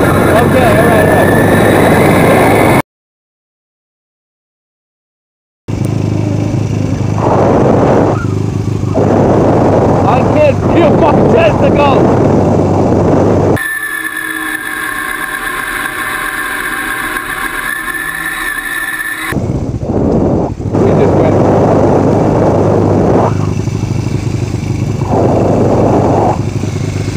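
A motorcycle rides along a road on a trip departing New York City, wind and engine roar heavy and constant, cut by a brief dropout and a stretch of muffled, tonal hum, with a voice talking at times.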